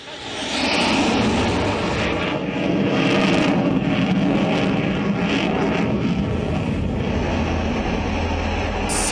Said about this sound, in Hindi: C-130 super Hercules touch down करने की तैयारी में है